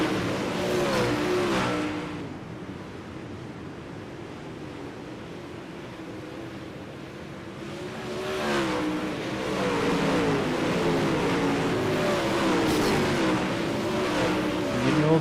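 Race cars at the I-55 track roar past at a distance, the engine noise swelling and fading in waves over a steady background rumble.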